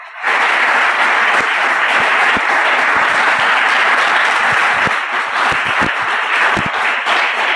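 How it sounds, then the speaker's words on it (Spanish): A church congregation applauding loudly, a strong sustained burst of clapping that starts abruptly and holds steady throughout, with sharp individual claps popping out of the dense wash. "¿Puede aplaudir a Dios, por favor? Bien fuerte ese aplauso."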